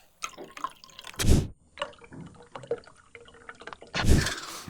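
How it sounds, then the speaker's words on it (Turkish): Dilute hydrochloric acid is poured onto a liquid, giving two short splashing pours with scattered drips and trickles between them, close and fairly clear. "Şimdi şurada seyreltilmiş asidim var. Üzerine döküyorum."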